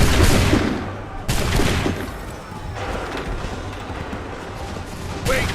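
Musket volleys in Assassin's Creed 3 crack out as loud, sharp bursts of massed gunfire, one opening, another just past a second in, and a final volley near the end, with a rumbling, noisy battlefield between them.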